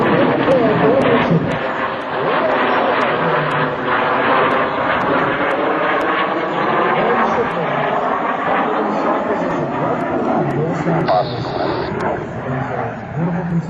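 F-86 Sabre jets roar past at the Dover AFB open house airshow, a loud continuous engine rush that sweeps and shifts in pitch, while a voice talks over the noise.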